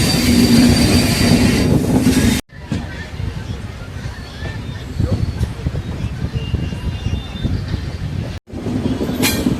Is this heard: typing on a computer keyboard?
no